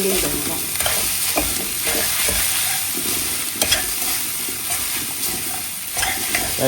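A spoon scrapes and stirs through rice in a hot pan over a steady background sizzle, with irregular scraping strokes, close and without speech.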